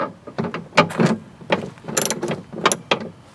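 A ratchet clicks in quick bursts while tightening a fastener on the door handle of a second-generation Hyundai Tiburon, close up, with irregular broadband clatter and no talk.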